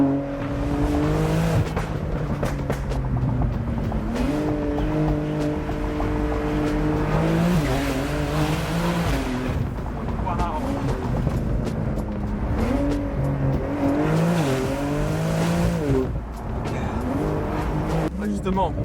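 A 720 hp Porsche 911 Turbo S accelerates hard, its engine note climbing through repeated rising pulls with brief dips at gear changes, loud and close from inside the car, with people talking over it.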